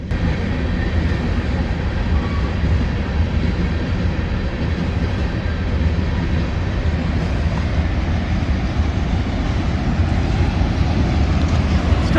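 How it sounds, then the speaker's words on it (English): Loud continuous rumble and clatter of a long freight train rolling past close by, steady and unbroken throughout. "Told you that's a live train."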